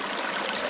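Steady, full rush of water escaping and flowing around a micro hydro penstock flow measurement setup outdoors, continuous and close with no talk.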